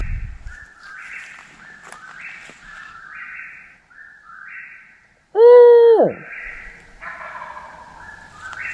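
Someone imitates an owl hoot while turkey hunting in Georgia: one loud, close call that drops in pitch, with birds chirping faintly in the background.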